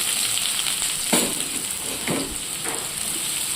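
Onions and green chillies fry in hot tempering oil with cardamom and cloves for a fish curry, a continuous close sizzle broken by a few sharp stirring scrapes.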